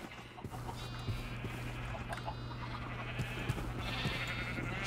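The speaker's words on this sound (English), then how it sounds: "Sheep." Synthetic sheep bleats repeat a few times over a steady low hum and faint clicks, mid-distance and moderately loud, with no talking.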